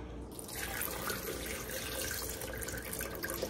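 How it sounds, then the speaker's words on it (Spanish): Water poured from a tap into a blender jar over fruit for a smoothie, a steady close splashing gush that runs continuously without pause. "Vamos a ponerle agua,"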